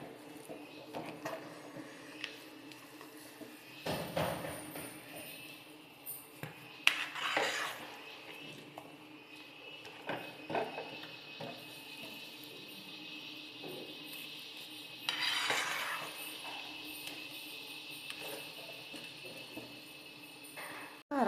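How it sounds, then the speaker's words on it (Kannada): Ragi mudde being hand-stirred in a pot after sugar is added, with repeated scraping and clinking of a utensil against the metal pot, moderately close, in uneven bursts over a quiet kitchen background. "ಸಕ್ಕರೆ ಹಾಕ್ಬಿಟ್ಟು ಇವಾಗ ಕೈ ಆಡಿಸೋಣ"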